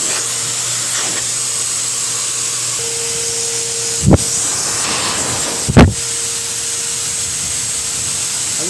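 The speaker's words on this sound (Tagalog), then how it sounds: "Hindi siya takot yung blower." A pet hair blower dries a cat during grooming, a loud continuous whooshing roar with a steady motor whine, broken twice by short sharp bursts of airflow or handling noise.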